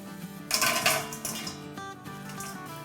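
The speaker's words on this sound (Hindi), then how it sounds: "अच्छा हमें इतना ही फ्राई करना है जब तक कि हमें सुनहरा सुनहरा कलर ना मिल जाए।" Homemade McDonald's-style potato French fries sizzle in hot oil, with a bright hissing rush that rises sharply after a quiet start and stays steady, mixed with light clattering.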